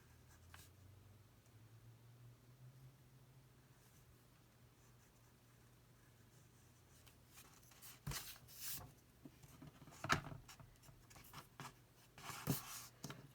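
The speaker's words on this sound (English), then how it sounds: "I'm just sketching out his beard." Faint pencil strokes sketching a drawing of a beard, with soft scratchy marks that grow louder and more frequent in the last few seconds over a quiet low hum.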